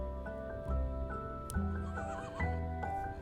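A Shire horse neighs in repeated whinnying bursts, fairly near and moderately loud, with a steady low hum in the background.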